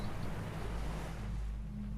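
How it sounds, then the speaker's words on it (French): Steady ocean waves washing without a break, a broad continuous rush with a low rumble underneath, no voices. "le mouvement des vagues"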